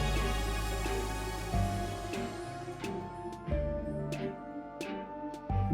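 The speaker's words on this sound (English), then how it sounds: "All I need to do is place a jukebox, put a CD in the jukebox" A Minecraft jukebox plays a music disc, giving a steady, loud tune with a low bass line and light percussive ticks throughout, with no voices over it.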